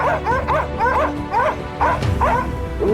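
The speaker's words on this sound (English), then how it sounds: "the hunting dogs barked sharply" Hunting dogs at a forest edge on a wild boar hunt give a rapid series of sharp, yipping barks, loud and close, repeating steadily for several seconds.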